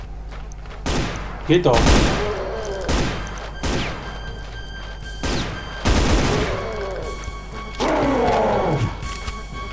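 Heavy gunfire from a weapon in the tactical survival horror video game Brutal Doom booms in loud, close bursts with growling creature sounds between the shots, while someone speaks over it.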